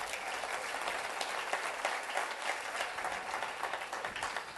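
A dense, steady round of clapping from an audience at a business presentation, quiet and even, with no voices standing out.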